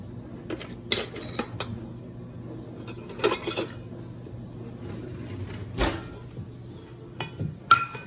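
Measuring spoons and cups are rummaged through in a home kitchen, giving scattered metallic clinks and clattering bursts separated by quieter stretches, with faint background voices.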